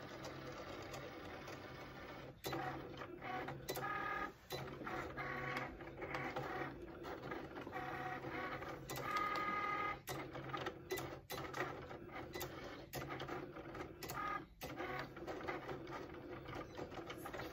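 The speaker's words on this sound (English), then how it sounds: "while my vinyl is cutting with my Cricut machine" A Cricut cutting machine slices vinyl for personalized wedding toasting flutes, giving off a steady mechanical whirring with frequent clicks and carriage shifts, close and continuous with no talking.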